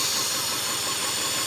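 A horizontally opposed four-cylinder engine idles roughly while firing on only two cylinders, with two spark plugs and two injectors disconnected. It makes a loud, continuous, uneven chugging with a hissy wash over it, close up and with no talk.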